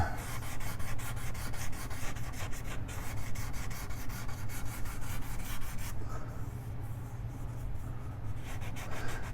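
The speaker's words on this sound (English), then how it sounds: "You want to make sure that you sand in there." Hand sanding of a wooden BC guitar kit body, with sandpaper rubbing continuously in fast, close scratchy strokes that ease slightly toward the end.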